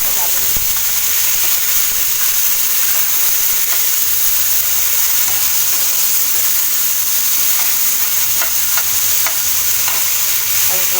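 Steady, loud sizzling and hissing as chopped tomato goes into a hot pan of spiced oil with asafoetida, the frying noise continuous throughout with faint stirring.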